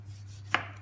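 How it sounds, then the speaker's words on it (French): Single crisp knife stroke cutting through a tomato on a board, a sharp brief chop over a low steady hum. "Et on va couper nos tomates."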